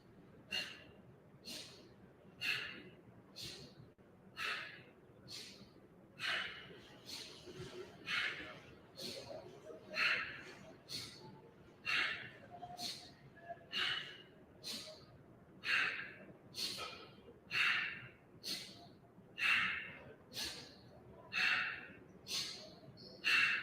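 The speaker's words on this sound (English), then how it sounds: "I'm breathing quite deeply, in and out through the nose." Deep nasal breathing during yoga practice, slow rhythmic inhales and exhales through the nose, about twenty close breaths in a steady cycle.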